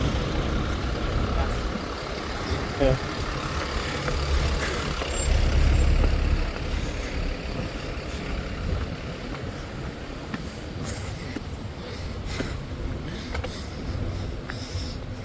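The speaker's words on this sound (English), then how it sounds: "On the bus." A bus engine rumbles steadily from inside the vehicle, with hissing bursts that fit air brakes. A voice speaks briefly over the drone.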